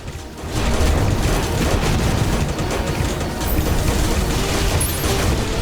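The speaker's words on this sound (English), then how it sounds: "Missiles." Missiles fire in the game Terraria Calamity as a dense, continuous barrage of loud booms and crackling blasts with no letup.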